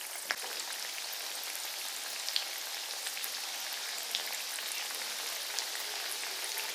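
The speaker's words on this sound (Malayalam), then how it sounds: "ഒരു ഗോൾഡൻ ബ്രൗൺ ആകുന്നവരെ നമുക്ക് ഇന്ന് നന്നായിട്ട് വറുത്തെടുക്കണം" Flattened rice and spinach snack deep-frying in hot oil toward golden brown, giving a steady, dense sizzle with scattered small pops throughout and no talking.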